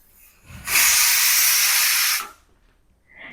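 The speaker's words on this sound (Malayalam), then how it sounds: "ഇതേ കുക്കറിലും വിസിൽ വരാറായിട്ടുണ്ട്" A pressure cooker vents a loud, steady hiss of steam for about a second and a half before the whistle, starting and stopping abruptly against a quiet kitchen background.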